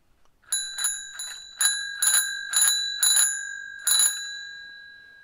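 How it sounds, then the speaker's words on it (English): A bent-lever bell on an old, scruffy Gazelle bicycle rings seven times in quick succession, each bright ring close and loud, then fading with a short metallic decay. "And it has a bell, although it has been placed a bit awkwardly, and this lever here is bent."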